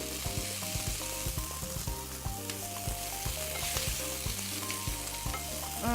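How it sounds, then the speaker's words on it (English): Peppers and onions for fajitas sizzle in a pan, a dense, constant frying hiss that stays loud throughout while steady background music plays underneath. "You can smell the flavors and the peppers and the onions cooking together"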